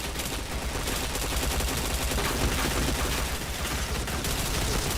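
Rapid, loud gunfire from a shooter video game fills the whole stretch as dense bursts of automatic shots with almost no pause and no talking.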